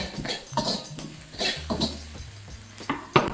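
Shrimp and peppers frying with black pepper in a pan, mostly heard as close clatter and scraping of a utensil against cookware over a faint sizzle, in short uneven bursts.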